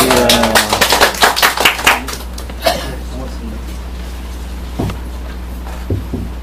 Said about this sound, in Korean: 오늘은 박수를 치셔도 됩니다